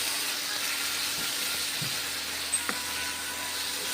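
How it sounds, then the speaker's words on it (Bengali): Curry sizzles steadily in a wok, a continuous frying hiss with a few faint knocks of a spoon stirring it, close and alone without talk. "তরকারিতে কড়াইয়ের মধ্যে ছেড়ে দিলাম, দিয়ে নেড়ে চেড়ে নিচ্ছি"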